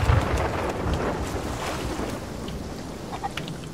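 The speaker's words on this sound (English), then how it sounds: "I think it's just the wind" Steady wind rushes over open sea in the pirate sailing game Sea of Thieves, a continuous broadband gust with choppy buffeting and faint water splashes, no voices.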